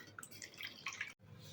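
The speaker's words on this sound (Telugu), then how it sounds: "నానబెట్టుకున్న వాటిల్లో నుంచి నీళ్ళన్నీ వంపేసుకోండి" Water dripping and trickling as soaked rice and chana dal are drained, a faint close patter of small drops with a brief pause before it resumes.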